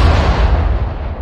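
Artillery cannons fire in Sudden Strike 4 in a Singapore battle scene, a loud booming blast with a rolling rumble that decays across the short moment.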